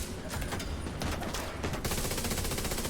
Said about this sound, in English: Takes a grenade and a shot from the turret.